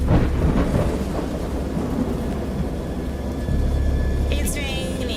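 A thunderstorm in a horror video game brings steady heavy rain and a continuous low thunder rumble, loud and close. Brief higher tonal sounds come in near the end.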